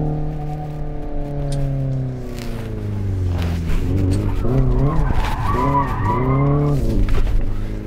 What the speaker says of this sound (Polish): No nie jest tak łatwy do opanowania w takim poślizgu